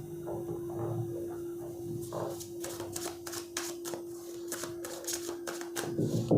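Tarot cards from a second deck being shuffled by hand, a run of quick crisp riffling bursts close up over a steady low hum, with soft rustles in between.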